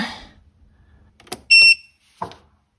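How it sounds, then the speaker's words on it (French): A single sharp electronic beep from a VELIT 12V camper rooftop air conditioner sounds once, bracketed by a few faint clicks and soft handling noises in an otherwise quiet space. "J'ai entendu un bip"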